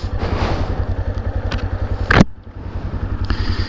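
A Yamaha Serow 250 motorcycle with a sticky throttle after a fall idles with a loud, steady thumping single-cylinder pulse, then revs in a brief sharp blip before dropping back to a lumpy idle, close up and with no talking.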